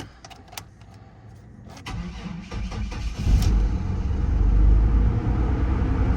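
A truck or van at a Copart auction, with its change-oil and service-engine lights on, cranks with a few clicks and whirs, then starts and settles into a loud, uneven, rough idle close by.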